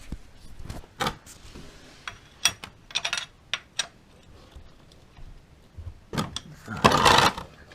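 Wrench clicks and metallic taps while loosening the oil drain bolt on a motorcycle, a sparse, irregular series of sharp close ticks, ending in a brief louder rattle.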